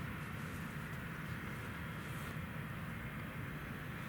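An Emirates Boeing 777 taxiing at Newcastle Airport, a low, steady jet engine rumble and whine heard from a distance, constant and fairly faint with no talking.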